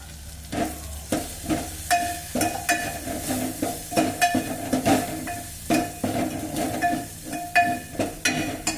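Turmeric stirred into hot oil for masala varan sizzles and crackles steadily, with a spoon scraping the pan in repeated near strokes and a soft hiss throughout.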